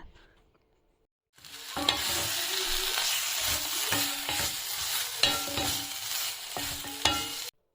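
Day-old cooked chickpeas are reheated in a pan: after a brief quiet start, a loud steady sizzle runs under repeated scraping and stirring strokes of a spoon against the pan.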